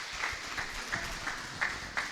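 Congregation applauding during a Portuguese-language evangelical home worship service, a steady wash of clapping hands with a few louder bursts standing out, moderately loud and without talk.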